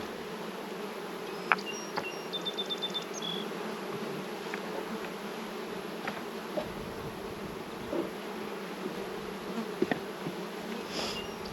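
Honey bees in an opened hive make a steady, dense buzz that continues throughout at moderate volume, with a few faint clicks and taps over the top.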